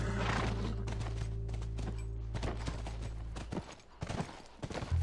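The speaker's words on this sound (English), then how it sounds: "That's our horse." A horse whinnies while hooves clip-clop in a quick uneven rhythm, with a few heavy thuds and a low steady hum underneath, from the video game The Last of Us.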